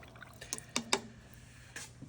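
A paintbrush swished and tapped in a water cup while cleaning watercolor paint, giving a few quick splashy drips and clinks close by, spread over two seconds.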